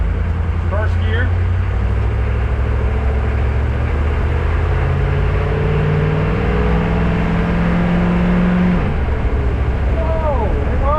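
Humvee engine idling in first gear after a manual shift during transmission repair work, a loud steady low drone throughout with slowly shifting tones, and faint voices under it.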